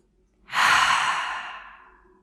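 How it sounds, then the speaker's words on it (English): One long, slow exhalation, a breathy rush close to the listener that swells quickly and fades gradually over about two seconds. "Take a big breath for me."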